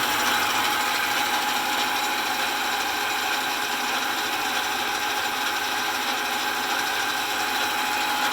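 A restored World War II era South Bend 9-inch Model A workshop lathe takes a metal cut, producing a constant, even mechanical whirr and hiss that holds steady throughout with no voices.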